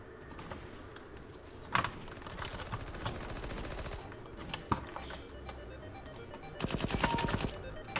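AK-47 fire in the video game Skill Warz comes in sharp, rapid bursts, with a dense volley near the end, over faint background game sounds and clicking.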